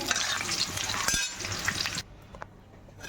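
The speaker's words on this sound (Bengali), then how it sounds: "আলুটা ভাজা ভাজা হয়ে যাচ্ছে" Potato pieces fry in hot oil in a pan, a bright steady sizzle with occasional stirring clinks that drops to a quieter crackle partway through.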